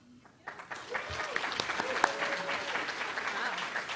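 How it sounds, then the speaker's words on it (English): An audience at an IT unconference lightning-talk session breaks into applause, starting after a short quiet moment and building into steady, dense clapping with a few louder individual claps. "I'd like a round of applause to introduce Linnea Williams."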